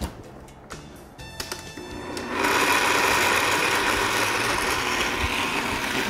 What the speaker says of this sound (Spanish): voy a dejar que se licúe